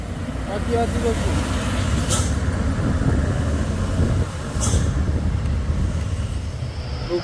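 A Hino 500 box truck drives along a hilly road, its engine a loud, close, steady rumble with a couple of sharp air-brake hisses, while people talk over it.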